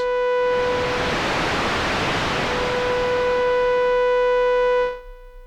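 Broad, steady hiss of synthesized white noise from a Neutral Labs Elmyra2 synthesizer with faint tonal hums underneath, lasting several seconds before abruptly stopping.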